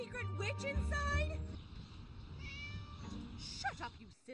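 Cat in the Scary Teacher 3D game meows several times in quick succession, fairly loud and close, with a spoken voice in the background.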